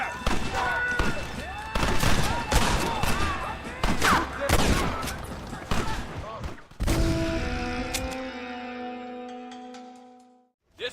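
Rapid, overlapping gunfire crackles through a Red Dead Redemption shootout, with loud volleys and shouting voices throughout, before the shots give way to a sustained tonal musical swell near the end.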